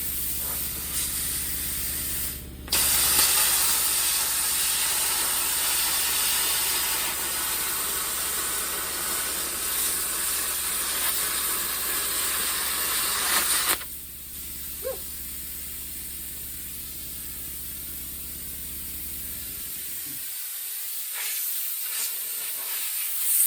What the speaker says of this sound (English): Gotta love blowing through old undercoating and whatever else this is.